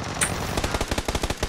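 Rapid automatic gunfire from a firefight in the battle-royale game PUBG, with close, loud bursts of shots in a quick steady rhythm that runs for the whole moment.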